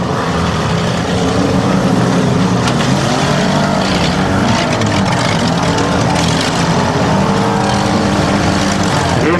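Demolition derby cars at a Tuscarawas County derby circle the ring, their engines roaring loud and close and rising and falling continuously, with a crowd or announcer faintly underneath.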